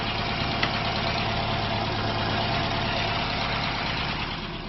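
Pinto engine fitted with a Weber 32/36 DGAV carburettor, in a kit car, runs steadily at a constant close, loud idle-like drone with no talking over it.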